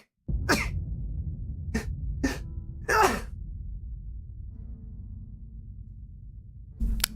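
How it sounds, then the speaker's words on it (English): A person sneezes, a sharp burst with a few smaller catches and breaths around it, close and loud against a quiet room with a low background hum. "Hold on, I'm going to sneeze."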